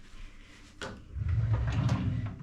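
A deep drawer holding a hairdryer slides open in a room inside a cave castle, a short muffled rolling rumble heard close by and quiet.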